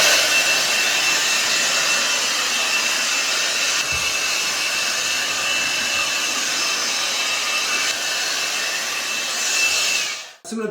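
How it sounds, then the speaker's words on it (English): A blower runs continuously with a loud, close, airy roar as it blasts plaster dust off a drywall ceiling, steady for about ten seconds before cutting out abruptly at the end. "I got my blower, I'm gonna blow everything off."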